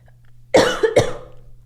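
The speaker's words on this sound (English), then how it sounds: "I've just been coughing recently." Two sharp, harsh coughs in quick succession, close and loud, against a quiet low hum.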